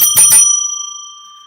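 A bicycle-style bell rings twice in quick succession, bright metallic strikes close to the microphone, then a clear tone rings out and fades slowly into silence.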